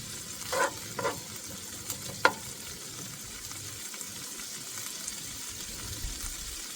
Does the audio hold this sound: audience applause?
no